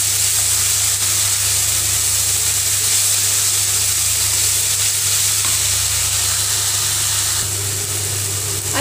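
Spice paste with turmeric, salt and a little sugar sizzling steadily in hot oil while being fried for a traditional Bengali katla fish kalia, a continuous loud hiss with no talk.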